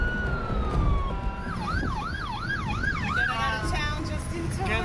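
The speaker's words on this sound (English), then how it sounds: "You hear the emergency sirens going" Emergency sirens wail through a town during the Fort McMurray wildfire, one steady tone giving way to a rapid up-and-down yelp, moderately distant over a constant rumble of traffic and wind.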